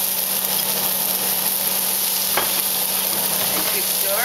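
Chicken, onion and peapods stir-frying in a hot wok, a steady loud sizzle with a spatula scraping and stirring through it, no talking.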